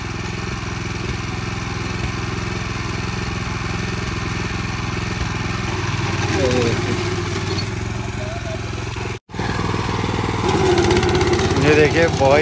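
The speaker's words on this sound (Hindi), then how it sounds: "यहाँ पर ताऊ जी सीधा रोटरी से जुताई कर रहे हैं।" A Rico Italy 9 HP rotary tiller engine runs steadily while tilling soil, a loud close drone that briefly cuts out and then revs harder. Someone talks over it.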